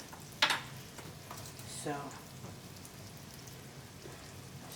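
Eggplant slices fry in olive oil in a pan with a soft, steady sizzle that stays quiet and constant, while a voice speaks briefly near the start.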